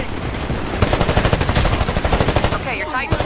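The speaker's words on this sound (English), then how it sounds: "That smart pistol fire." Rapid smart pistol fire in the shooter game Titanfall crackles in a quick run of sharp, evenly spaced shots, loud and close, with a brief electronic warble near the end.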